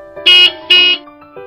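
A car horn honks twice while driving, two loud close blasts each about a quarter second long, followed by a faint trailing tone.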